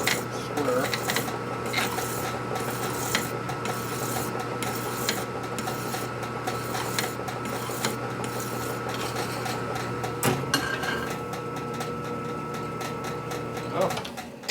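Hand filing a channel into a part for a 1946 Harley-Davidson 84ci stroker knucklehead motor rebuild, with steady rasping strokes running continuously under a constant low hum and a brief shift near the end.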